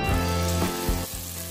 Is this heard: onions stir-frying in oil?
yes